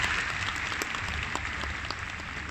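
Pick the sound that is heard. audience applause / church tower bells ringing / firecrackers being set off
audience applause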